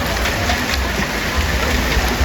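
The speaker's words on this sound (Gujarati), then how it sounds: "વરસાદ ચાલુ થઈ ગયો છે." Rain is falling on a village in Umarvav, Gujarat, as a steady, dense hiss with a low rumble beneath it. It stays continuous and fairly loud, with no voices.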